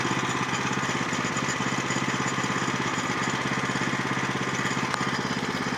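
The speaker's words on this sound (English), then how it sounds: "Now blow it off with the blower." A blower clearing sawdust at a sawmill runs steadily, with a loud, even engine drone and a constant rushing hiss for the whole stretch and no speech.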